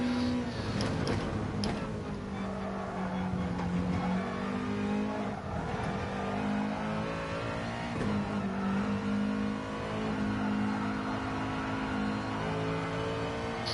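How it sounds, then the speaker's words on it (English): Race car engine in a racing game on the Barcelona circuit: a sustained, fairly loud whine that revs up, drops sharply on downshifts and climbs again through the corner, with no talk over it. "it's a feathering of throttle and coming off the steering. Down to 2nd gear for the turn in"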